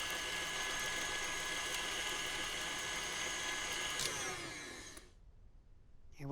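An electric mixer beats butter, sugar, egg and vanilla for a raspberry tart dough, giving a steady close whirring drone that winds down and cuts off near the end, with no talking.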